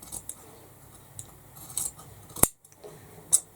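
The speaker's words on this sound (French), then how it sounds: "je vais ouvrir en découpant au bord de ma couture" Scissors cutting fabric along the edge of a sewn seam for a tote bag, a few quiet close snips and crisp metallic blade clicks at irregular intervals.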